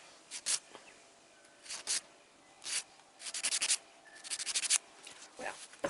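A nail file bevels the sides of a gel nail with short, rhythmic scraping strokes, some in quick rapid runs, close and fairly quiet.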